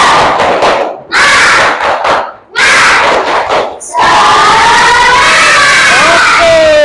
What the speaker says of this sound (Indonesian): Dibuktikan dengan tepuk semangat.